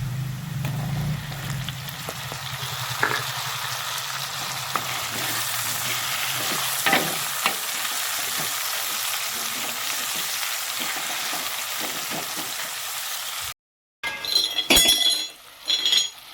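Potatoes fry in a pan as tomatoes go in, a steady close sizzle with scraping stirs and clinks of a utensil against the pan, then a brief gap followed by louder clattering stirs.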